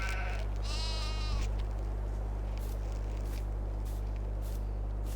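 A sheep in a pen in Farming Simulator 22 lets out a single clear bleat near the start, followed by faint soft clicks and rustles over a constant low electrical hum.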